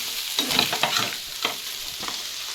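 Chicken pieces fry in oil in an open pan while a spoon stirs them, giving a run of close scraping strokes over a steady sizzle.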